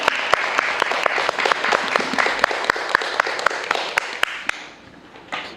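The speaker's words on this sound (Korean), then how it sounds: "큰 박수로 환영 부탁드립니다" An audience at a Korean film screening talk event claps in welcome as the actress comes on stage, a steady burst of applause with distinct close hand claps that thins out toward the end.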